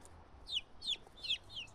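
A hen near the henhouse gives four short, sharp clucks in an even rhythm, fairly close against a quiet outdoor background.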